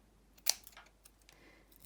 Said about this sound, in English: then with the scissors, I'm going to cut little triangles out